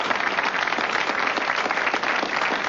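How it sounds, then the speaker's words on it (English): A studio audience applauds at a TV show taping, a steady sustained wash of clapping from many hands, even in level and with no voices over it. "a VCR works and the audience applauds"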